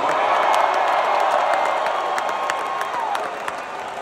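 A concert crowd at an outdoor music pavilion applauds and cheers after a band's set, loud sustained clapping and whoops that ease slightly toward the end.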